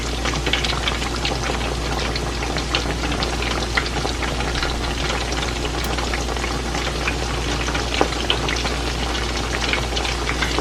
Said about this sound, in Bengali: তো এই যে আমি চাপলি কাবাবগুলো এখন ভেজে নিচ্ছি।